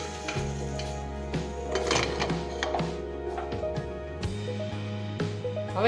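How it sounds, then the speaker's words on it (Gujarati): A pressure cooker lid is handled and closed with metallic clunks and scrapes over a low steady hum, with a faint sizzle between the knocks. "હવે આપણે કુકરનું ઢાંકણ છે તે બંધ કરી દઈશું."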